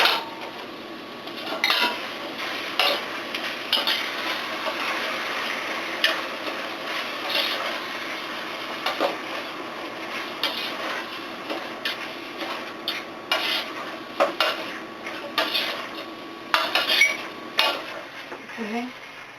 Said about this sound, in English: Let me stir my meat up a little bit.